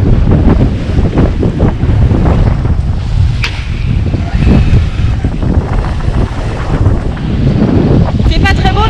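Steady, heavy wind buffeting the microphone at sea aboard a 28-foot sailboat sailing upwind across the Pacific, with a continuous rush of waves and water along the hull and no voices.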